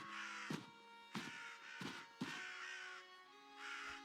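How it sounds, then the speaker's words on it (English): Crows caw in the REKA video game as a man is attacked by them: about four loud, harsh calls spaced roughly half a second apart over a steady droning background. "the crow noises, I think, are coming from the man being attacked by crows"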